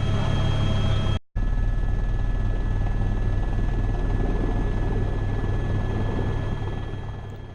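A helicopter flying low over a Nepali village landing site, its loud, steady rotor thump and turbine roar filling the scene with one brief dropout, then slowly fading a little at the end.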